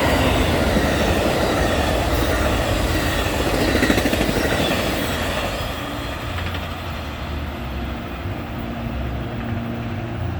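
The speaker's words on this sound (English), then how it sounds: "This was the Northbound Amtrak train P392, Northbound Illini train Amtrak train P392 on the CN Champaign Chicago sub." Northbound Amtrak Illini train P392 passing on the CN Champaign–Chicago subdivision: a loud, steady rumble of rolling railcars with wheel noise that eases slightly partway through, no voices.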